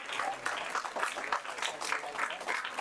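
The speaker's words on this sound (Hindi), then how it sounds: "ताली बजाइए आप लोग।" Moderate, fairly faint clapping from an audience at a school prize ceremony in Bihar, steady and uneven with no voices over it.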